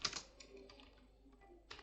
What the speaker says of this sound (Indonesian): Ini silahkan ketikkan judul programnya.